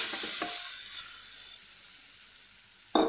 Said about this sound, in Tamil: கொஞ்சம் எண்ணெய் சூடானதும் நம்ம எடுத்து வச்சுருக்க பன்னீரை வந்து இதில் சேர்த்துடலாம்